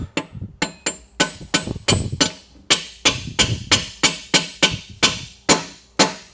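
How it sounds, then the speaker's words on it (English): A hammer drives a bushing into a 6L90e transmission with about fourteen sharp, solid metallic whacks in a steady rhythm, each ringing briefly. The strikes are loud and close, with no voices. "it'll put it in with just a few whacks"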